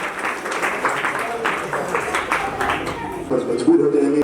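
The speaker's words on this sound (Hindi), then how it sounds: "एक बार जोरदार तालियां युवा साथियों के लिए।" An Independence Day celebration crowd in Badli gives a round of applause for young volunteers, clapping steadily at moderate loudness while voices and a brief tone break through toward the end.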